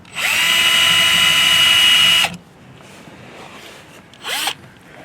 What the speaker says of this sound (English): We're going to drill our 2 holes.